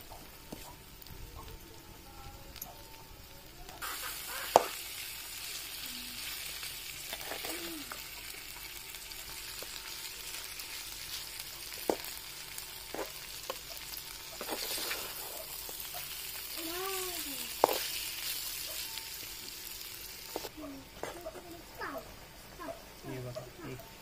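Fish sizzles steadily in a hot pan for a traditional Konkan village recipe, with a continuous frying hiss, occasional stirring clicks and a voice talking over it.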